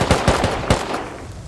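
Rapid bursts of video-game gunfire from GTA NoPixel, several sharp shots in quick succession near the start, then fading into a lingering echo.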